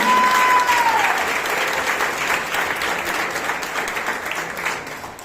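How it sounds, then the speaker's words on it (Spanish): Sustained applause from a church congregation fills the space, steady and dense, slowly easing off toward the end. "déle aplausos al que vive"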